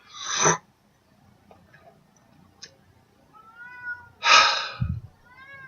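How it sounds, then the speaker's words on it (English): A cat shut outside all night yowls at a door: two loud, drawn-out meows, one at the start and one near the end, separated by quieter chirps and a few faint short cries. "the cat is going nuts at this door"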